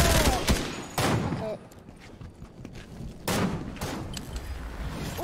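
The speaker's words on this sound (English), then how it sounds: "Oh, good snipe, whoever did that." Sniper rifle shots in Fortnite crack out as a few sharp, loud reports spaced seconds apart, each with a short tail, while players talk between them.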